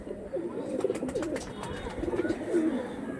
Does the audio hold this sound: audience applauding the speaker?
no